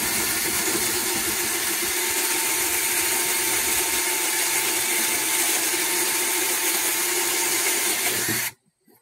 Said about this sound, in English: we'll carefully drill this hole